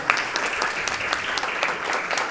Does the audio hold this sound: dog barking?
no